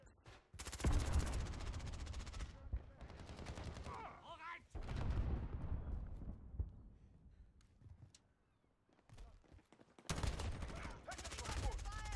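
Bursts of automatic gunfire and single shots in Call of Duty Modern Warfare, loud and close, with a brief lull before firing resumes toward the end.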